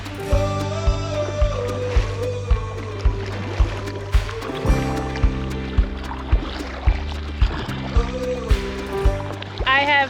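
A giant three-seat kayak is paddled on water, with rhythmic paddle strokes splashing at a steady pace close by while people talk over them.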